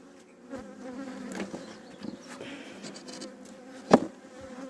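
A steady drone of honeybees buzzing around a hive during a spring hive inspection, with individual bees passing close by now and then, one loud buzz sweeping past near the end.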